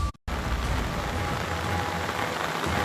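Heavy monsoon rain in Jammu and Kashmir pours down in a dense, steady hiss of drops striking surfaces, loud and close, after a brief cut at the very start.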